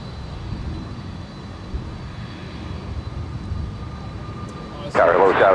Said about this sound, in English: Speaking of a departure on 3-6 right, Frontier Flight 2135 in the Wellington, the black-footed ferret. It's heading to Las Vegas in an A320 Neo.